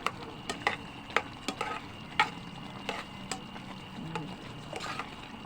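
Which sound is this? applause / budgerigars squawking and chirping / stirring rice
stirring rice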